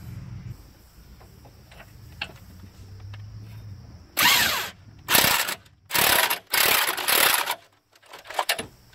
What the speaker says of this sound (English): So right now I got good access at these, so I'm going to go ahead and grease them